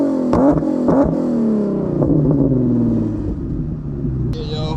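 A cold Infiniti G37 engine revs hard in bursts, its loud rumbling exhaust note rising and falling close by as the driver tries to make it shoot flames, with a brief hiss near the end.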